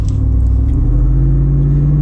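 Deep, steady engine and exhaust rumble from a Jeep Wrangler Unlimited 392 Hemi with the back open, heard from inside during a sharp turn, loud and continuous with no talking.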